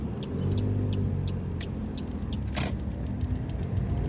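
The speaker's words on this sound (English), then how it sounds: "as soon as these cars go past" Cars drive past on a seafront road near Blackpool amusements, a steady close rumble of passing traffic with a brief swelling whoosh as one vehicle goes by.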